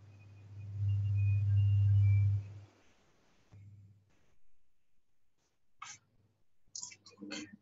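Computer mouse clicks while working in Salesforce Data Loader: a few faint, sharp clicks near the end, after a low steady hum fades into quiet.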